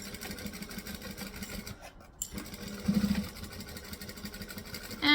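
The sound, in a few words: sewing machine stitching a tote bag with fabric panel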